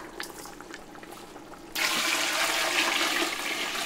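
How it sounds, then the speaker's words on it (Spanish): Water pours from a tap into a soup pot holding seafood and vegetables with epazote sprigs, a sudden loud steady gush after a quieter lead-in, no voices. "Y le vamos a agregar el agua."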